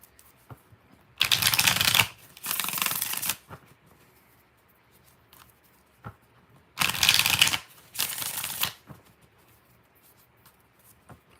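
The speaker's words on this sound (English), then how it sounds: "One more shuffle." Tarot deck being riffle shuffled up close, two pairs of brisk crackling bursts about a second each separated by quiet pauses, with faint taps between.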